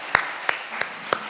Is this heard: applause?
yes